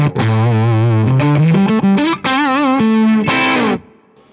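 Electric guitar played on the bridge pickup through an Axe-Fx III Marshall Bluesbreaker amp model at stock settings: a sustained, mildly distorted phrase of held notes and short bends, loud and close, ending in a fading ring.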